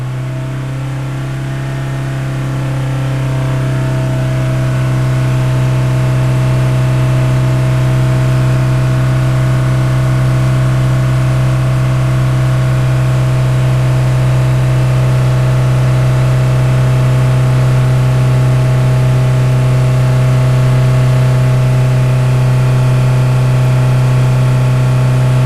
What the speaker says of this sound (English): if I rev the engine up again, let's see if we can change that temperature reading.